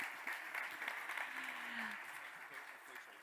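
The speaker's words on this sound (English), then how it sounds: "Let's give her a round of applause." An audience at an ocean innovation event in Monaco claps in sustained applause, a dense, even wash of hands lasting the whole stretch, with a faint voice beneath it.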